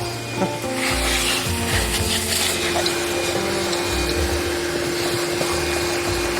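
A steady vacuum cleaner roar with shifting low hums and rubbing, scraping noises as the nozzle moves, loud and close throughout.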